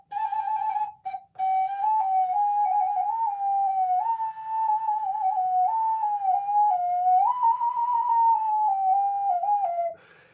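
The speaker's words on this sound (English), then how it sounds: "It's kind of fun, the ocarina," Ocarina played in a slow, meditative improvisation, a pure, breathy whistle-like tone gliding between a few nearby notes in one long sustained phrase after a couple of short opening notes.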